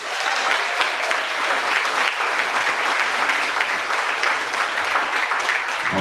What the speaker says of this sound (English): So if everybody give a warm welcome to our special guest speaker, Mr. Charlie Berens.